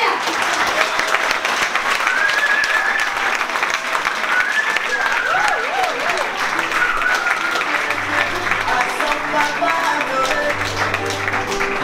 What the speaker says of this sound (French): je vous demande de l'applaudir chaleureusement, Isabella Maya.